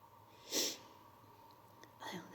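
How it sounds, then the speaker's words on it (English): A single short, sharp sneeze sounds faintly in a quiet indoor hall, followed by soft breathy noises. "Oh, the sneeze again."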